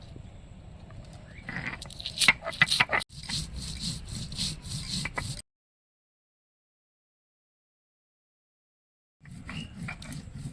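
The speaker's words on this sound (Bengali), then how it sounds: "এবার কিছু লঙ্কা বেটে নেব।" Chillies being ground into a paste by hand on a grinding stone, rhythmic gritty scraping and rubbing strokes, close and moderately quiet, followed by a long silence and then a little more scraping.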